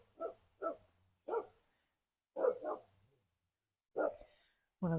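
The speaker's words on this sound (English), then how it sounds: "One of the dogs down the road is barking" A dog barks down the road in quick single and double woofs, six or so bursts separated by quiet gaps, fairly faint in an otherwise still setting.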